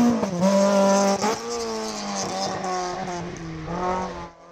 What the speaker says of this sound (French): Yannick Valfré remporte le groupe F2000 avec sa Renault Mégane, que l'on retrouve le dimanche soir au 9e rang du classement général